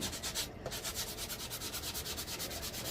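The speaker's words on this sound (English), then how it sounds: "Run the sandpaper over it a little bit." Sandpaper is rubbed back and forth over a Dollar Tree craft piece to smooth it, giving a close, rhythmic scratchy rasp in quick regular strokes with no talking.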